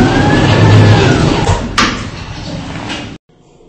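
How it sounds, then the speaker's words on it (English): Doors of a Schindler 5500 lift in a Roblox game slide shut, a loud sweep of mechanical noise with a brief sharp knock partway through, then the sound cuts off into near silence. "Doors closing."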